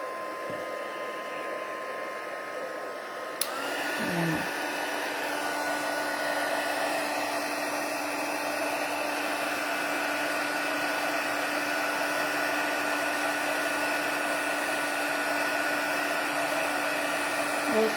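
A heat embossing tool runs on high heat to melt embossing powder; a soft click starts a steady, close, whirring fan blow with a faint whine that continues evenly to the end, with no talk.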